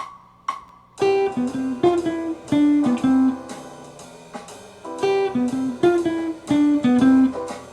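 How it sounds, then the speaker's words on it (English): Jazz instrument plays a two-note enclosure lick: a couple of soft lead-in notes, then two phrases of bright, chord-backed notes in a clear, repeating rhythm, close and prominent, with a short pause between phrases. "Essential Jazz Pattern 8 is a 2-note enclosure"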